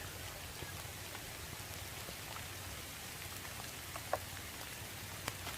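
Rain pours steadily all around, a dense even patter with a couple of louder drops landing close by.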